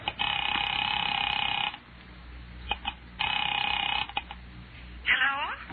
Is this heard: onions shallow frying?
no